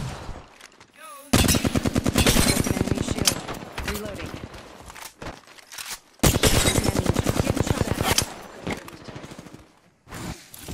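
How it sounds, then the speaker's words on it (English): Bursts of automatic gunfire in a tactical shooter game as the player comes under fire, long rapid volleys loud and close with brief pauses and game voice callouts between them. "Getting shot at."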